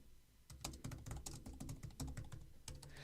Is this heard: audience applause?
no